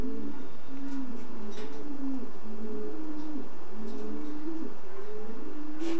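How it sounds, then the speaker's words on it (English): Young racing pigeons cooing in a loft, a steady overlapping series of low throaty coos repeating rhythmically and close, with a few faint clicks and rustles in between. "This is a few of the partners' early young birds."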